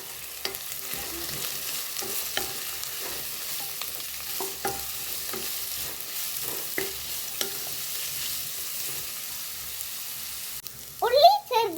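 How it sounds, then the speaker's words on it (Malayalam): Onions, curry leaves and green chillies fry and sizzle steadily in a pan for a chicken and ash gourd curry, with repeated scraping stirs throughout and a brief louder clatter near the end. "പച്ചമുളക് എല്ലാം കൂടി നന്നായി ഇളക്കുക."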